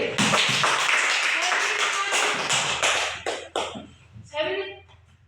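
A few people clap their hands in a teaching practice session for a mother-tongue language lesson, sharp irregular claps that thin out into scattered taps, with voices talking near the end.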